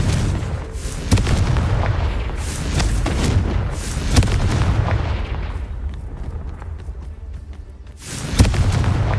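The Confringo blasting curse explodes in Hogwarts Legacy amid battle noise, with repeated loud booms and crackling bursts. A sharp blast near the start and another late hit stand out over the rumbling combat.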